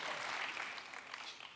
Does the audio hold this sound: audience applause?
yes